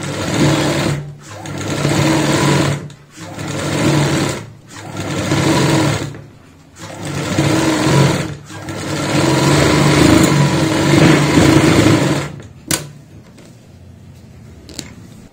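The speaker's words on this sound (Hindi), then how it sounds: "अब हम इस पॉइंट पे सिलाई लगाएंगे, इससे हमारे धागे नहीं निकलेंगे।" A sewing machine stitches through a jute sack doormat in several loud, close bursts of fast rhythmic whirring separated by short pauses, then one longer run before it stops into quiet handling sounds.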